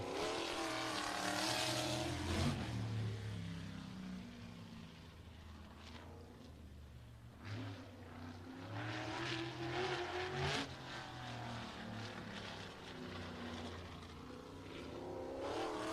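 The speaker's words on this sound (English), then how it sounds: "Green flag is in the air for Mickey Kempkins, off into turn number 1" A race car on a lap at Showtime Speedway in Pinellas Park, Florida: a sustained, droning engine that swells and fades as it circles the track, heard from some distance and with no talk.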